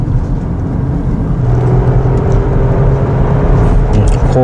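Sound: Toyota Mark X sedan engine droning when accelerating uphill

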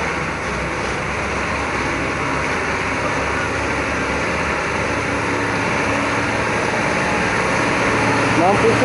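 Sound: heavy coal truck engine accelerating

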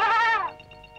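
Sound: goat bleating

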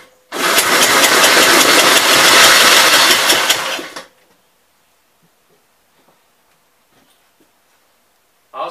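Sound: 1965 Gravely walk-behind tractor engine starting and running

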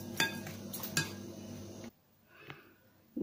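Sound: mixing kachumber salad vegetables in a bowl

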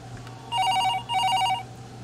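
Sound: telephone ringing in a video game

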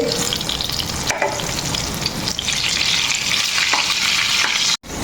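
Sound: eggplant frying in a pan

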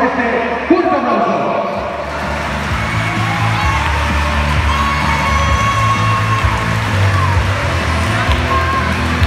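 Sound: crowd applause and cheering for futsal school

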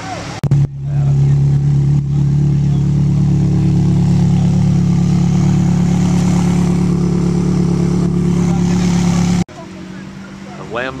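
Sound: Lamborghini engine revving at Ferrari club

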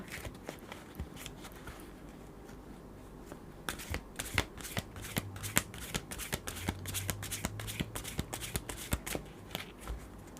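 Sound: tarot cards being shuffled

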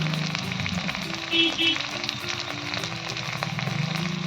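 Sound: spices frying in oil with salt

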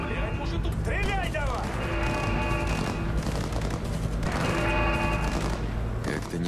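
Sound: gunfire in the video game Cyberpunk 2077

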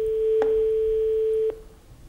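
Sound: telephone ringing tone on an outgoing call

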